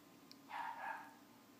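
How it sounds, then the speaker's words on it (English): A dog gives one short bark, about half a second long, then a second quick one, both faint and somewhat distant against quiet room tone. "Excuse my dog barking."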